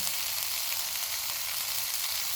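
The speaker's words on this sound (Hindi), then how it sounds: "इनको 2 से 3 मिनट तक भूनेंगे" Tomatoes and green chilies fry in a pan over a medium flame while preparing butter chicken, giving a steady, close, unbroken sizzle with faint stirring and no talking.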